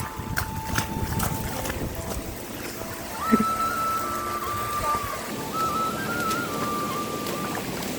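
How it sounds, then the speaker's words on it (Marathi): Steady heavy rain hisses throughout at an outdoor campsite, with a few brief tonal sounds drifting over the downpour and no voices. "मित्रांनो, लय जोरात पाऊस लागलेला आहे"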